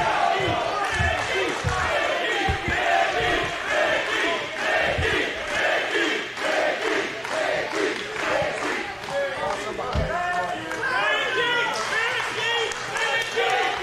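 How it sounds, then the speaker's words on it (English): A loud arena crowd at a 2006 IWA Mid-South King of the Deathmatches wrestling event chants in steady rhythmic unison, a continuous roar of massed voices with thumping accents. "the crowd breaks out into another Mickie chant"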